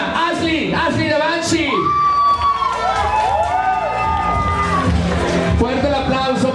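A crowd cheers and applauds loudly at the grand final of a runway fashion show, with whoops and shrieks rising over a steady roar that lasts the whole stretch, and a voice heard through it.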